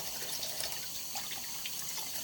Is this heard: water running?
yes